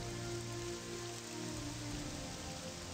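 Steady rain falling in the video game Morrowind, a continuous dense patter and hiss with no breaks and no voices.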